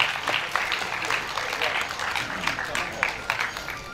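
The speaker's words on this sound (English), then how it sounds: "Huge round of applause, everybody." A convention audience claps steadily for a few seconds, dense and sustained applause filling the room.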